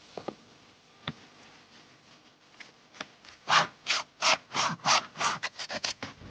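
A knife saws through a raw yellow-fat beef steak on the Inner Mongolian grasslands: a few scattered scrapes, then a quick run of about a dozen rhythmic, close rasping strokes.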